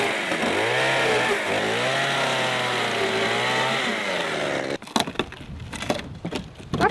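A power saw cuts through OSB board for an automatic chicken door, a steady loud whining drone with a shifting pitch that runs for several seconds, then breaks off into rough clattering and scraping.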